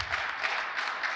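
Audience applause at the Baol Films Festival: dense, even clapping from a crowd, steady and fairly loud through the whole brief moment, with no voices over it.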